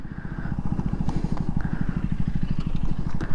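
A KTM Duke 200 or Duke 250 motorcycle engine idles close by with a fast, even, thumping pulse and a slight rev near the end, set against outdoor background noise.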